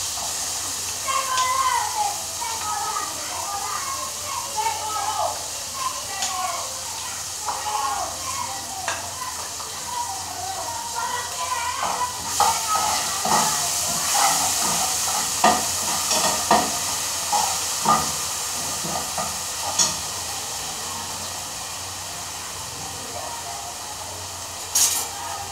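Onion and garlic frying in a pan, a loud continuous sizzle and crackle that rises in intensity midway, with occasional stirring scrapes and background voices.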